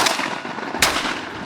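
A Beretta A400 Xcel Sporting shotgun fires at clay targets on a timed course, two loud, sharp blasts about a second apart over a busy outdoor background.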